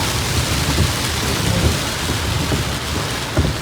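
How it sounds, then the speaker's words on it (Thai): Heavy rain pours steadily in Phiang Pakpao, Chiang Rai, Thailand, with low thunder rumbling through a dense, continuous hiss, and a brief louder rumble near the end. "สายฝนโปรยปลายลงมาอีกแล้ว"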